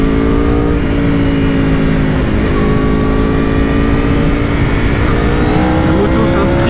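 Aprilia RSV4 RF sport motorcycle accelerating hard on the road, a loud, high-revving engine climbing rapidly in pitch through the gears amid heavy wind noise, recorded close from the rider's position.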